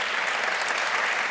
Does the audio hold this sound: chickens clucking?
no